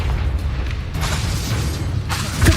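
Booming magical blasts from the Bombarda spell in the video game Hogwarts Legacy, dense rumbling bursts with crackling debris and game effects layered throughout, loud and continuous.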